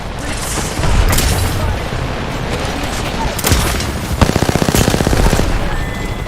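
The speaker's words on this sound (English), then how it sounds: "Danger close. Grenade." Grenade blast and sustained gunfire in Call of Duty: Modern Warfare II, with booming impacts and a rapid automatic burst late on, dense and loud amid game combat noise, voices talking over it.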